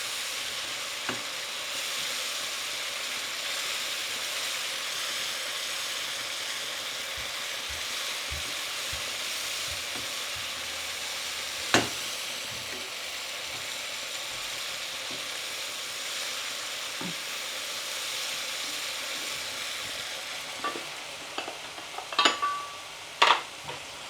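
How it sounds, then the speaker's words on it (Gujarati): Masala spices frying and sizzling in hot ghee in a pan, a steady hiss through the whole stretch, with a few sharp clinks of a spoon or pan near the end. "તો મસાલાને પ્રોપર આપણે કૂક કરીએ."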